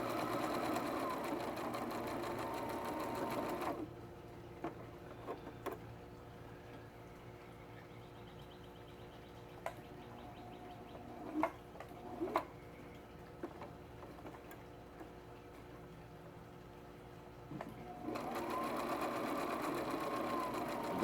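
A sewing machine double-stitches a drawstring pouch, its needle running in a quick, even mechanical tick for most of the stretch. Short pauses and faint handling clicks break the run, and the machine stops near the end.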